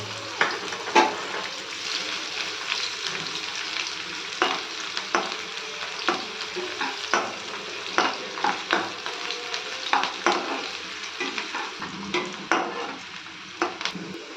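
Onions fry in plenty of hot oil for a Rayalaseema-style chicken gravy: a continuous sizzle broken by repeated sharp scrapes and clinks of a spatula stirring against the pan.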